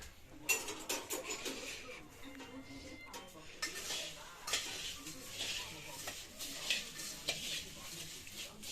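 A spoon stirs bhel in a bowl, producing close, busy scraping and light clinking strokes that run continuously with a few louder knocks.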